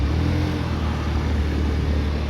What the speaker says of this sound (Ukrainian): Дуже приємно працює мотор.